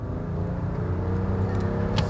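BMW X5 diesel accelerating inside the cabin, with a synthetic engine sound piped through the speakers, heard as a steady low, V8-like drone with rumbling undertones and no talk.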